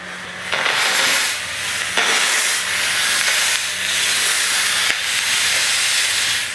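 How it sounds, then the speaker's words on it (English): Hoover Steamjet steam mop releasing a steady, loud hiss of steam in long continuous bursts with brief dips between them, heard close up with no talking. "good steam output on this machine"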